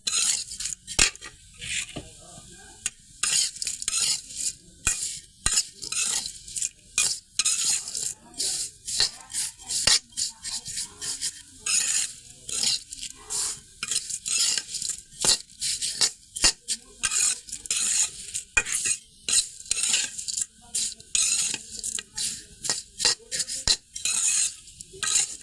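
Lachha semai vermicelli fries in a pan while a utensil stirs and scrapes it again and again, a long run of quick, sharp clinks and scrapes that sounds close and busy, with a faint sizzle underneath.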